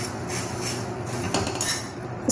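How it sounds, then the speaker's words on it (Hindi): Puffed rice is stirred and lightly roasted in a pan over a low gas flame, making a continuous close scraping, rattling sound of spoon against metal with a few brighter knocks. "अब आपको ऐसे चला के इसे अच्छे से मिक्स करना है और हल्का हल्का भूनना है"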